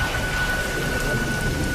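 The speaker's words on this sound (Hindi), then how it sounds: "बारिश अब भी जोरों पर थी और हवाएं मंदिर की दीवारों से टकराकर सनसनाती हुई गुजर रही थीं" Heavy rain pours in a dense, constant roar with a low rumble of thunder underneath, a stormy night outside a temple, steady and enveloping with no voices.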